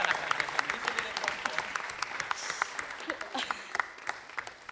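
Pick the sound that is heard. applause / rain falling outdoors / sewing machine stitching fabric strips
applause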